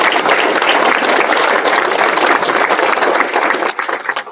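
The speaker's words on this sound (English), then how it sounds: "please join us with another round of applause and thanks for those veterans and current members of the United States Armed Forces in attendance with us today." Sustained, dense applause from an audience honoring veterans and current U.S. Armed Forces members at a joint Rotary Club meeting in Peoria, steady and loud throughout before thinning slightly at the end.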